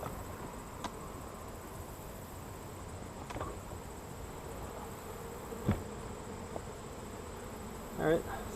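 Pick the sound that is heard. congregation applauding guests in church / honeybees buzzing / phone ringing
honeybees buzzing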